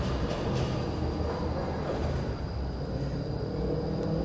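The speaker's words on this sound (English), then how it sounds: "noisy tram" Steady, loud rumbling of a tram or train rolling along, a continuous low roar with faint metallic hum throughout, no voices.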